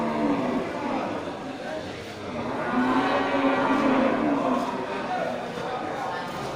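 Cattle at a village livestock market before the holiday low with drawn-out moos rising and falling over about six seconds, fairly close, while market chatter and general crowd noise carry underneath.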